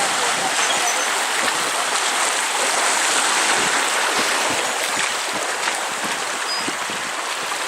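The Provo River rushing steadily past during a rafting trip, a continuous broadband wash of flowing water and small rapids, close and loud, with no break.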